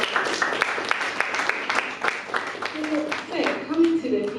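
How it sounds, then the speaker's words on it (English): An audience applauds at a talk event, a dense patter of many hands clapping at moderate distance that holds steady for several seconds, with faint voices and murmuring rising toward the end. "A round of applause."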